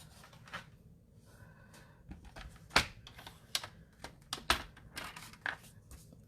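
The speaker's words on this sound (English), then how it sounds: "I'm gonna bring back my paper trimmer." Paper trimmer cutting paper for a handmade fun-fold card: quiet, scattered clicks and short sliding snaps, a few sharper ticks in the second half, in a hushed room.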